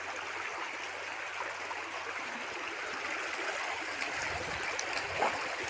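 A shallow creek flows beside a hiking trail near riprap banks, a steady close rushing wash of water with faint gurgles and no talking.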